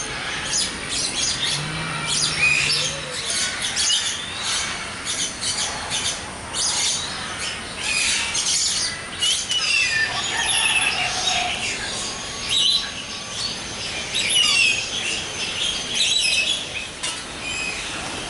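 Harsh squawks and chirps from birds at Jurong Bird Park in Singapore ring out repeatedly over a busy, hissing aviary background, fairly close and loud throughout, with no talking.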